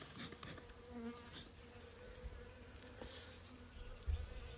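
Bees in a small mini nuc hive during winter give off a faint, low hum, quiet and steady with a few soft knocks and no voices.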